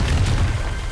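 A Confringo fire spell exploding in Hogwarts Legacy, a loud deep booming blast with a rumbling low tail that fades quickly.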